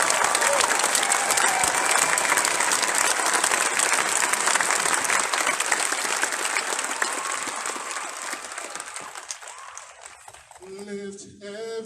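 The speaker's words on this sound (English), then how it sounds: "I'd like you all to give a round of applause for Rico Went." A large audience gives a sustained, loud round of applause for an honoree, the dense clapping filling most of the stretch before thinning and fading toward the end as a few voices and a musical tone emerge.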